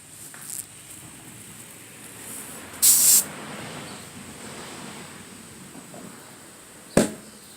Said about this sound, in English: Listen for the pops.